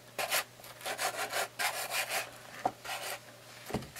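A Scotch-Brite pad rubbed over the corners of a leather journal to distress it, giving quick repeated scrubbing strokes in a steady back-and-forth rhythm, close up and alone over a faint hum.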